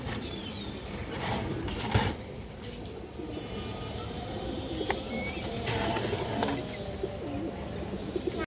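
A khaki male pigeon coos softly at a pigeon farm, the low murmur set against a busy, noisy background with a few sharper bangs and knocks.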